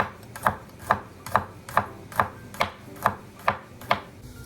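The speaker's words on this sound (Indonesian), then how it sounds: "Bawang putihnya bisa dicincang dan bisa diiris, tapi di sini aku mau diiris" A knife slicing garlic cloves on a board for spinach pesto pasta: nine evenly spaced, crisp chopping taps in a steady rhythm, close and clear, with no talking.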